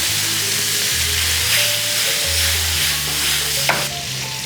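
Cleaned, deveined shrimp and garlic sizzle steadily in a pan, a continuous frying crackle with a faint clink near the end.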